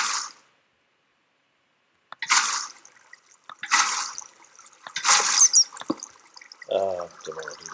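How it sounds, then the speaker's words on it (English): Water poured from a bucket in the Minecraft video game, heard as three separate splashy, rushing bursts after a quiet start, with a brief voice-like sound near the end. "just going to dump some water in here"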